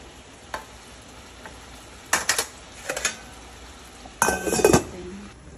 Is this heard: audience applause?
no